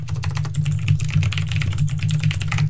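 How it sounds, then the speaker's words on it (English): Rapid, continuous typing on a computer keyboard during a Minecraft minigame session, the dense clatter of keystrokes sounding close and steady over a constant low hum for the whole stretch. "God damn, like that typing, though."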